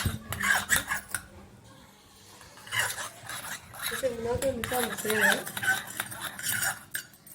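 Small toy kitchen utensils clink and scrape in quick, irregular bursts as something is stirred in a miniature pot, with children's voices talking over parts of the mixing.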